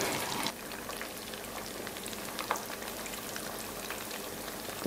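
Calzagatti fry in hot oil with a dense, continuous crackling sizzle and scattered pops, close and steady for about five seconds, no voices.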